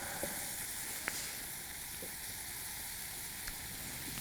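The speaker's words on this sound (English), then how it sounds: "Just finishing browning the meat off" Meat browning in a pan at an off-grid lochside campsite, a faint steady sizzle with a few tiny pops and clicks, with no talking.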